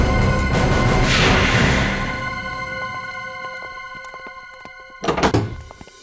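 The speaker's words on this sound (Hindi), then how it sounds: "मैं तो बस ये कचरा बाहर रखने के लिए दरवाजा खोला था" A door in a house is opened as someone steps out to put the rubbish outside, giving a soft thunk and rustle followed by a brief louder knock-like burst near the end, with no voices.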